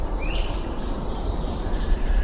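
An American redstart sings outdoors in Maine, a quick series of high, thin, sweet notes repeated in a short rhythmic phrase over a soft background hiss, fairly clear and close.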